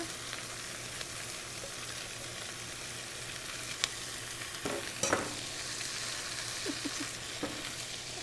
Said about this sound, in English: these are going to saute for about 3 minutes until things become a little bit more soft